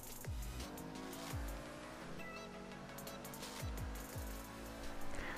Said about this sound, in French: le bruit de la voiture est vraiment sympathique